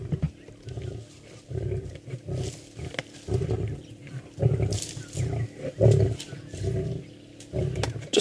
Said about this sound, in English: Listen carefully, that male's growling every now and then.